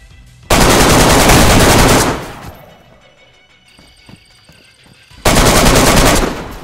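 Automatic gunfire in the video game DayZ, two loud sustained bursts of rapid shots close by, separated by a few seconds of quieter clatter.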